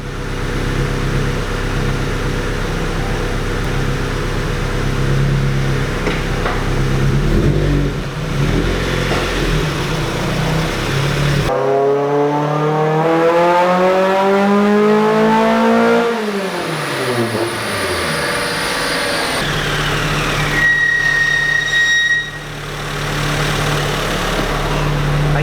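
Mazda Miata running on nitrous, heard as a loud idle that breaks into a hard full-throttle pull, the engine note climbing steeply through the gears before dropping back to idle.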